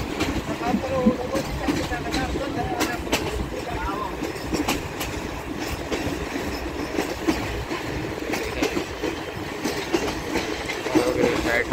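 Pakistan Railway's Khyber Mail express rolls fast into Sadiqabad station, a continuous rumble of wheels with rhythmic clickety-clack and sharp rail clatter, loud and close throughout with faint voices underneath.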